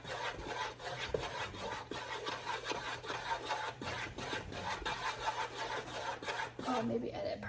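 Marshmallows being stirred as they melt in a pot for Easter rice krispie bars, giving a steady close scraping and rubbing of the spoon against the pot with soft knocks, continuing throughout.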